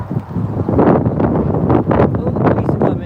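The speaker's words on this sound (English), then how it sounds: "Very windy walk. It's windy." Gusty wind buffets the microphone in loud, rumbling bursts, roaring continuously with uneven surges throughout.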